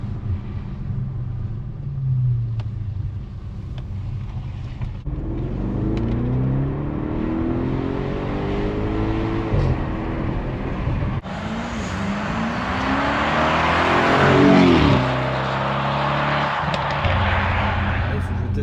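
An Audi RS7 Performance accelerates gently from inside the cabin, its engine note rising in smooth sweeps through the gears over a constant road rumble, growing louder and rougher toward the end while someone talks over it.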